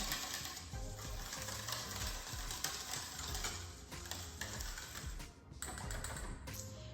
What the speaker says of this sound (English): we'll just give that a little bit of a whisk around